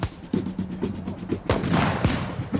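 Black powder matchlock arquebuses fire at a historical festival parade, sharp booming reports at about 0.3, 1.5 and 2.0 seconds over a steady crowd and outdoor murmur.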